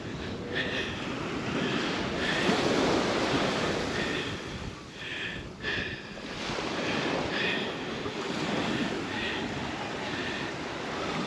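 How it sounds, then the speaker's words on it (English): Waves wash and break onto a beach at Playa de los Pocillos, Lanzarote, a continuous roaring surge with wind buffeting the microphone and some faint voices. "we'll go between the waves"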